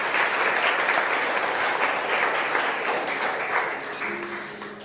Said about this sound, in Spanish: Dale una ofrenda de palmas a Jesús.